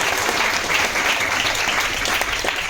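An audience claps continuously for a police officer at a gathering, a thick steady patter of many hands that holds level throughout with no voices over it.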